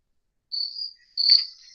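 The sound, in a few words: cricket chirping sound effect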